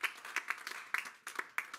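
A church congregation clapping, heard as rapid, uneven bursts of many hands. The claps come in clustered rhythmic groups with short gaps between them and sound faint and somewhat distant.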